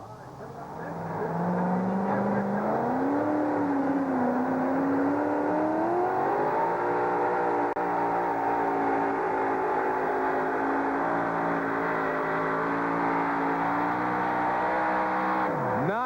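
A two-wheel-drive pulling truck at a truck pull drags a weight sled down a green track, its engine rising steadily in pitch and roaring loud and sustained for about fifteen seconds before dropping off, with a commentator talking over it.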